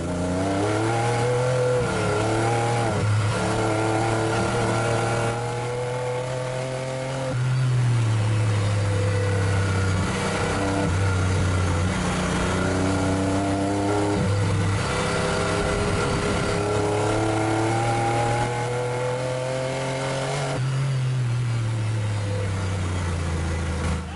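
Replica Lamborghini, a DIY build, accelerating on city streets heard from inside: a loud continuous engine drone rising in pitch through several gear shifts, with dips between pulls and no talking.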